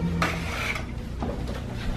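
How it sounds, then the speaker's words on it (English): Freshly baked cookies are lifted one at a time onto a cooling rack, giving light metallic clinks and scrapes of a spatula and pan, close and fairly quiet. "time to put them on the rack. I bring them over one at a time."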